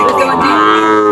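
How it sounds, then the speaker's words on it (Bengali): A cow at a cattle market in Amin Bazar, Noakhali lets out one loud, close, drawn-out moo that fills the short moment without any talk. "এই যে আরেকটি গরু, এই যে একটি গরু"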